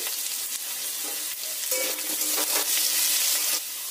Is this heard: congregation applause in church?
no